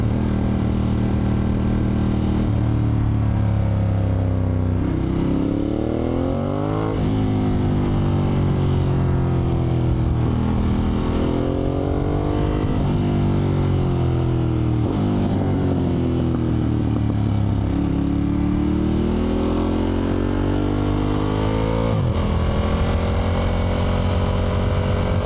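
A Suzuki GSX-R sport bike engine drones steadily while riding, its pitch rising and falling in repeated sweeps as gears change and the throttle opens, loud and close throughout with constant wind rumble.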